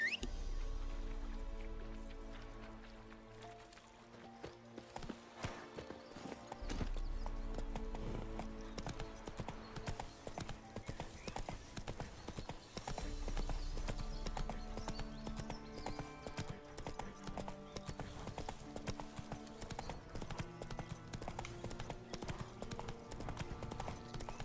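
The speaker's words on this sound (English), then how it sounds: "Let's call the horse." Horse hooves clip-clop in steady rhythm in the video game The Witcher 3, the gait running continuously at moderate loudness under game ambience and music.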